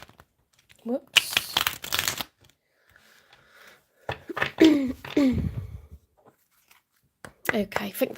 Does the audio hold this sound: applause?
no